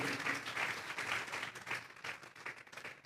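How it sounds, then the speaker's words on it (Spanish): A church congregation claps together as an offering of applause, a soft, distant wash of hand claps that swells and fades slightly over a few seconds. "Vamos a darle una ofrenda de palmas a ese Dios fuera de serie."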